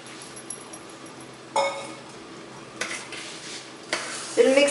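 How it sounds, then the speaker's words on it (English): Dry flour is folded into wet fruit cake batter in a bowl, with soft stirring and a few clinks of utensil against the bowl standing out from the quiet. "We'll mix it together very lightly with cut and fold method"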